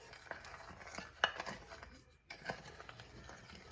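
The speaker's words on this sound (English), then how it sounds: "And then we're gonna stir it up." Argo starch stirred into a crunchy mixture, giving soft scraping and gritty rustling with a sharper clink near the middle, close and fairly quiet.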